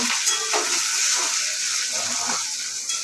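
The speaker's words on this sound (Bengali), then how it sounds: "একটু হালকা করে ভেজে নিচ্ছি" Peas and paneer lightly frying in hot oil: a loud, continuous hiss and sizzle close by, with soft scraping stirs under it.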